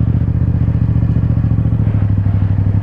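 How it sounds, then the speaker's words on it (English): A motorcycle on a stunt-riding practice run hums steadily and loudly up close, its engine note droning evenly as it coasts through a turn with the clutch pulled in, with no talking. "I got the clutch pulled in, right? And I'm just coasting with the bike, okay?"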